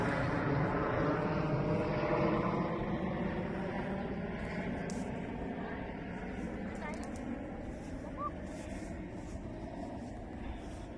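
An airplane passes overhead outdoors, a broad droning roar that is loudest early and slowly fades, heard through light insect buzz.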